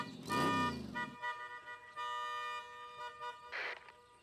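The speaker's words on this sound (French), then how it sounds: "Et si tu klaxonnais sans bouger de l'endroit où tu es?" An animated cartoon vehicle honks its horn, with a few tooting blasts of sustained, bright horn tone and a voice briefly heard at the start.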